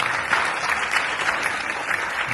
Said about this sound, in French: Je vais donner l'applaudissement